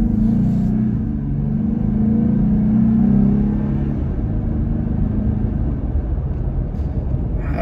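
A Jeep Gladiator's engine and exhaust give a loud, steady low rumble while driving, with no voices heard.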